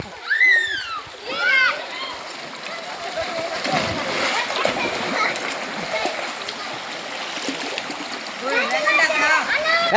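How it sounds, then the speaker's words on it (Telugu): Water from a small roadside waterfall splashing steadily along a stream near Vangara, with children's voices and shouts heard over the rushing flow. "ఆ దారి వైపు దారి పక్కన ఈ మినీ వాటర్ ఫాల్ ఉంది"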